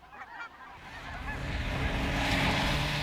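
Snow geese call in the Arctic, a chorus of honking that swells from a few scattered nearby voices into a dense, steady flock clamor.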